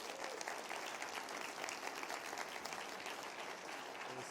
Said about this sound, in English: let's give another round of applause for our wonderful benefactor, David Falk